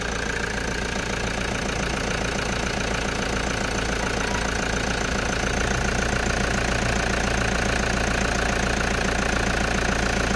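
Toyota Commuter van with a 1KD diesel engine, showing a low power fault and EGR flow trouble codes, runs at a steady idle. The knocking diesel clatter is loud and continuous, and no one speaks over it.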